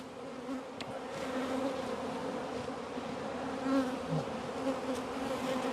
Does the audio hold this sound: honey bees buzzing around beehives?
yes